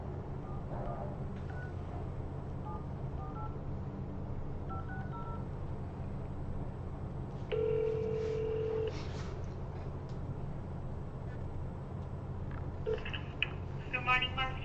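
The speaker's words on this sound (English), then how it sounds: "How about I call on my phone instead?" Phone dialing tones, a short burst of steady beeps followed by a quick run of brief keypad tones, heard over a low constant hum with faint speech around them.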